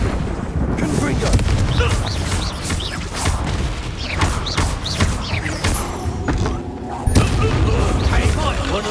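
Confringo fire spells blasting in the video game Hogwarts Legacy, a dense barrage of loud booming explosions and impacts during combat, with a voice talking over them.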